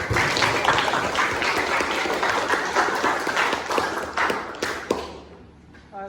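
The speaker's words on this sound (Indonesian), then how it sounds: "Mari kita beri aplaus." Classroom of students clapping together, a dense steady burst of applause that carries on for several seconds before tapering off into a few scattered claps near the end.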